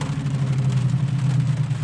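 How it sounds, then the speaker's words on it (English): A truck engine idles steadily nearby at a winter lakeside campsite, a low, even rumble with no talk over it. "Fired up his truck."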